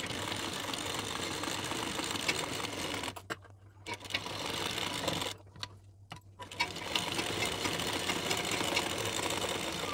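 A sewing machine stitches a blouse seam with a half-inch gap, running in a steady rapid whir that stops briefly twice before starting again.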